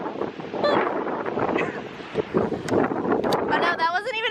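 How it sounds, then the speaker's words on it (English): Big ocean waves crash along a windy shore near a lighthouse in Newcastle, Australia, a rumbling wash of surf buffeted by wind on the microphone while people talk over it. "Oh my gosh, the waves are ridiculous right now."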